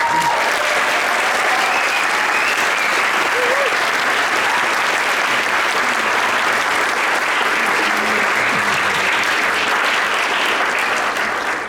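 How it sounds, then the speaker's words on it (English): A school audience applauds eighth-grade all-state musicians at a band concert, a steady and loud wash of clapping that holds for over ten seconds without a break. "Please stand so we can give you a round of applause real quick."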